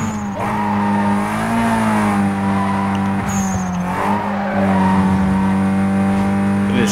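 A car's engine whines at high revs under nitrous boost in Need For Speed Most Wanted, a loud sustained tonal roar with shifting pitch and brief tire squeals, close and continuous throughout.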